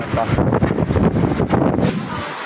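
Strong, roaring typhoon wind buffets the microphone in heavy gusts at a seaport, loud and continuous, with a voice partly buried underneath.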